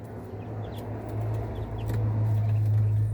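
Three-day-old Rhode Island chicks peep in a brooder, with soft high chirps scattered over a constant low hum of equipment, faint and close-miked, and no speech.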